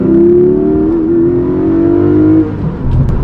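A Porsche 718 Cayman 4.0 GTS, its mid-mounted 4-litre flat-six making 400 hp, revs hard and holds a loud, rising engine note close by, easing off near the end with no talk.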